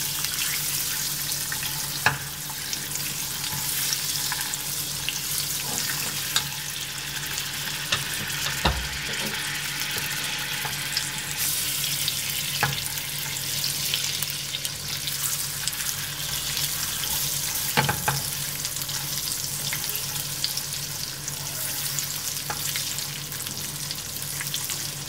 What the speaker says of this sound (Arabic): دابا غنزيدو عليه الكراميل بعد ما داب ديالنا، غنزيدو عليه واحد المعلقة ديال الزبدة.